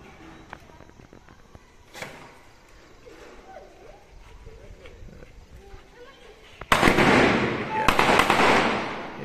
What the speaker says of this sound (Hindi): बच्चे इधर पटाखे फोड़ रहे हैं